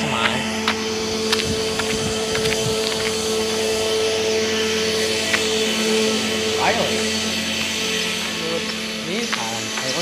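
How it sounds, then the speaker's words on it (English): A grain vacuum powered by a 4430 tractor loads corn into a semi on a farm. It gives a continuous, loud mechanical drone with steady tonal whine and scattered knocks, while someone talks over it. "a 4430 over there running that vacuum throwing up the semi"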